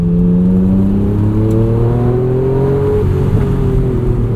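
A 1992 Acura NSX engine pulls hard on a canyon road, its loud, steady note climbing in pitch as the car accelerates, with a brief shift partway through.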